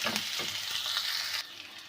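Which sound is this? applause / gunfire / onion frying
onion frying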